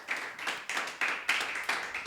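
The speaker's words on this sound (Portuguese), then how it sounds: "dê uma salva de palmas para Jesus" A church congregation claps in a slow, regular rhythm, about five distinct bursts of hand claps within two seconds, moderately loud and close, with no voices over them.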